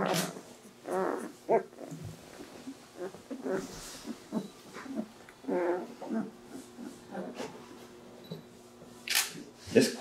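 A German Shepherd puppy makes small whimpering and growly noises in short bursts, fairly faint and close, with quiet handling sounds and camera clicks around it.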